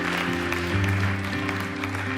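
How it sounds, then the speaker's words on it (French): Congregation clapping for the King of kings at a French-language church service, the clapping mixed under a loud sustained organ or keyboard chord that shifts pitch, with no speech. "On applaudit le roi des rois."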